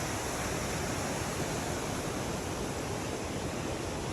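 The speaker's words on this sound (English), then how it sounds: "That waterfall is huge." A huge waterfall at a gorge roars in a steady, dense wash of falling water, loud and close throughout with no voices over it.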